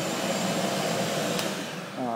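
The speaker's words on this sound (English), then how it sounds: "The vacuum is right now is connected to a shop vac." A shop vac connected as the vacuum for a DIY CNC router setup runs steadily as a loud, continuous whine close by, with a brief speech-like sound near the end.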